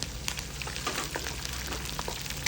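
Chopped green chillies sizzling in hot oil in a village kitchen, a steady close crackle with scattered pops and spits throughout.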